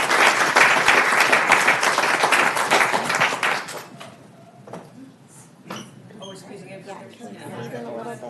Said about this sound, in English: And let's give them a big round of applause since we owe them so much.